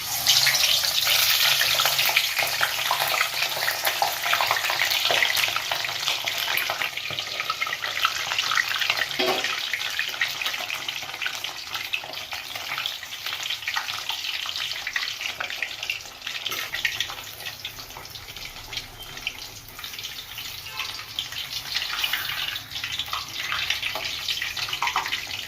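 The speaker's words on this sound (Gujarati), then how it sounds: "પનીરને આપણે પહેલા થોડું શેકી નાખીએ તેલમાં।" Paneer pieces frying in a generous amount of hot oil in a pan, a steady broadband sizzle running continuously at close range with small crackles and occasional soft clinks, no talking.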